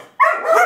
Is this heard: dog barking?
yes